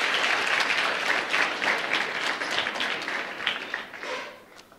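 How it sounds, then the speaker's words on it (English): A church congregation at a Wednesday service applauds steadily for several seconds, a broad wash of many hands clapping that tapers off at the end. "Can you clap for her?"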